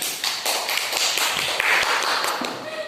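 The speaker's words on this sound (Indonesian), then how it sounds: "Tepuk tangan buat Mei." Classroom applause breaks out, a brief burst of many hands clapping at close range, quick and uneven, filling the room before fading out.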